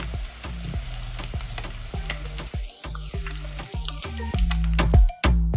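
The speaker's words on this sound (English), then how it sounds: "Also fry it on the sides and kind of roll it over." Green plantains sizzle and crackle steadily in hot oil as tostones fry and get rolled over, with soft ticking pops and brief utensil taps throughout, loud and close.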